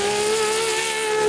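Supercar climbing the uphill course at the Goodwood Festival of Speed, its engine giving a steady, smooth, loud tonal drone that holds pitch throughout the short stretch.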